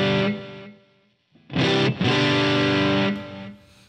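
Electric guitar run through a compressor effect pedal, strummed chords ringing out thick and sustained in two bursts with a brief gap between, loud and close with no talking.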